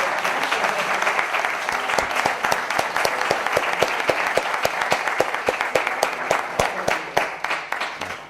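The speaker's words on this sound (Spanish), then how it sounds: "creo que merece un aplauso por colaborar" Loud, steady applause from an audience at a mystery-themed conference session, a dense wash of clapping with distinct nearby claps punching through, continuing unbroken throughout.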